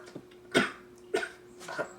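Three short, dry coughs from a person recovering from illness, evenly spaced and close, fairly quiet against a faint background hum.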